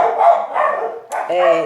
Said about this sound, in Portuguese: Tem os cachorros latindo aqui mesmo.